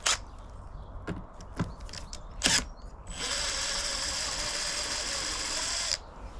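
Screws are backed out of a thin plywood wall panel on a rotten 30-year-old camper, first as a few short sharp mechanical bursts, then a steady close whirring of a power driver for about three seconds.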